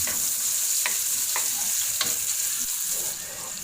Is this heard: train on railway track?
no